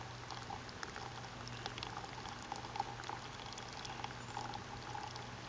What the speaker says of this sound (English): I like the pour over method.